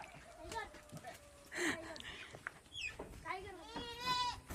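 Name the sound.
goats bleating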